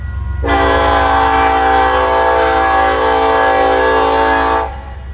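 A broken-down freight train on the Kansas Midland Railroad sounds a long, loud, steady horn blast lasting about four seconds over a deep rumble, then cuts off sharply while the low rumble continues.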